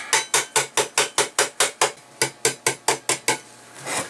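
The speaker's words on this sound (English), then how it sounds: "We're going to flip it over and we're just going to pound it up a little bit." A hammer pounds a metal lid for a camping cup in a fast, even series of about fifteen sharp, ringing strikes. There is a short pause partway through, and a softer scuff comes at the end.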